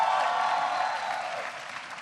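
Audience applause fills a hall at the Salvation Army Ray Kroc Center during a law enforcement event, a thick, steady clapping that eases off slightly toward the end without any speech.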